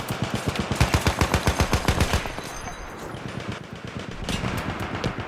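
Rapid bursts from an MG telescopic machine gun in a team deathmatch game, a loud, close string of evenly spaced shots lasting about two seconds before giving way to quieter gunfire and game ambience.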